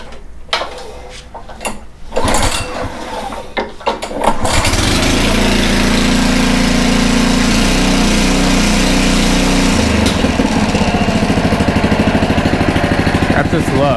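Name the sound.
Honda HRC216 lawn mower engine being started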